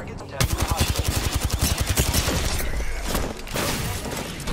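Rapid automatic gunfire from the video game Apex Legends, in a solo ranked match, loud and close, in a fast burst of dozens of shots followed by heavier scattered blasts and shattering impacts.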